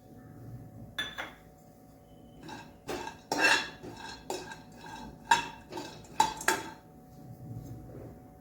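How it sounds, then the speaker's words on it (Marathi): Coconut being roasted in a kadai, with a spoon scraping and clinking against the metal pan in irregular strokes, close and fairly loud over a quiet background with no talk. "आपण कढईमध्ये आधी खोबरं भाजून घेणार आहोत लालसर"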